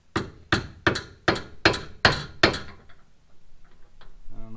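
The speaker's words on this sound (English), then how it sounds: "I'm gonna have to find something a little longer to hammer on this" Seven sharp metallic hammer blows on a Tahoe bumper bracket land in a steady, evenly spaced rhythm, loud and close, followed by quieter faint clinks and rustling.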